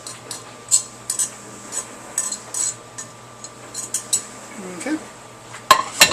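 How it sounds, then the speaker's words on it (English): A utensil stirs taco meat and vegetables in a pan, giving repeated clinks and scrapes against the metal in an uneven rhythm over a faint sizzle, with one brief spoken word. "Stir this up a little and get it all out."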